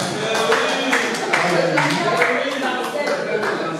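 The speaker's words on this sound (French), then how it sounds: "On applaudit pour la seule table rectangulaire de cette salle." A hall audience applauds the lone rectangular table at a banquet, a steady, dense wash of clapping lasting about four seconds with voices mixed in.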